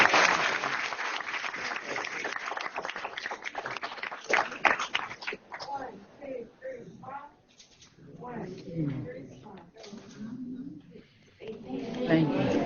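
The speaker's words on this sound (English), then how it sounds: "you can give them another round of applause" Students being honored at a school board meeting get a round of applause: dense clapping fills the opening seconds, then it fades as voices and thanks take over.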